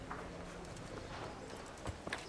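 Horse hooves in the medieval game Kingdom Come: Deliverance, with a few faint clip-clop steps under a soft, busy background and no talk.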